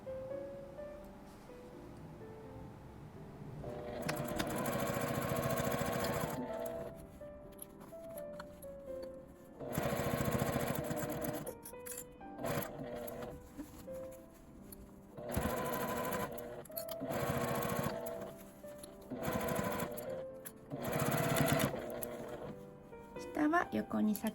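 A sewing machine stitching fabric and elastic-lined lining for a divided tent pouch, running in repeated bursts of rapid whirring separated by pauses, close up, with a voice speaking at times.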